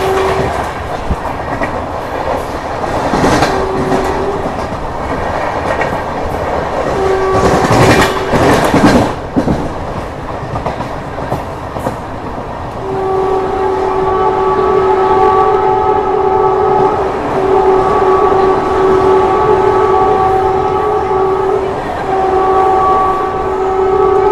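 Aboard the Humsafar Express as it gathers speed near Chennai, a loud steady rumble and rattle of the carriages fills the space, with a burst of clatter midway and a long sustained horn tone sounding through the latter half.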